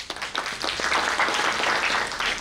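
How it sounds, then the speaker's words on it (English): An audience applauds a production team after a creative event, a dense, steady round of clapping lasting throughout at moderate level with no voices over it. "Please give them a huge round of applause."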